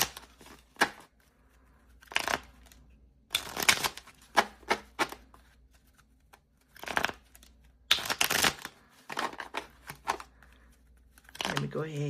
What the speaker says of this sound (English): I'm going to give these cards a little shuffle.